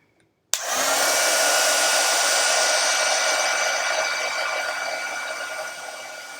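A heat tool blows a steady, loud whoosh of hot air onto embossing powder over a stencil, switching on abruptly and holding a constant roar until it tapers slightly at the end.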